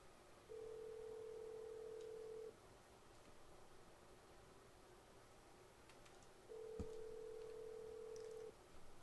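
Telephone call tones: two steady sustained beeps of about two seconds each, separated by a gap of faint background hiss, with a brief click near the second tone; no talking.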